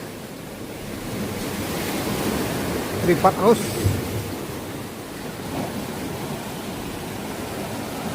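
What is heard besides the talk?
ocean waves at a hidden beach in South Bali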